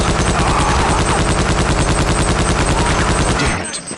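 A portable Gatling gun in the Wild West Half-Life mod Wanted! fires a loud, continuous rapid burst of shots for over three seconds, then cuts off abruptly.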